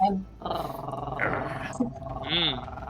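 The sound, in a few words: player imitating a growl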